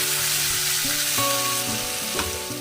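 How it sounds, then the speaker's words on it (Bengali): Onions sizzle and crackle steadily in hot oil, frying until reddish-brown, a close, continuous frying hiss with occasional spatters, no voices. "পেঁয়াজটা আমি লাল লাল করে একটু ভেজে নেব"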